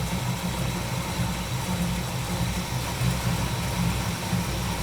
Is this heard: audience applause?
no